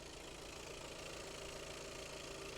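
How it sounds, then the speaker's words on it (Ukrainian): A Volkswagen Tiguan Highline 2.0 TDI diesel with DSG idles steadily under the open bonnet outdoors at dusk, a continuous even engine drone with a light mechanical rattle and no voices. "Двигун запущений, працює."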